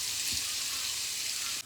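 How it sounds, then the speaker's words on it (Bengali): Ground spices fry in hot oil for a pabda fish curry, giving a dense, loud, continuous sizzle with a soft stirring bump early on. "মশলাটা মোটামুটি ভেজে নিয়েছি,"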